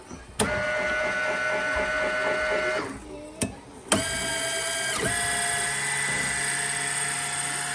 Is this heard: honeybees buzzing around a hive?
no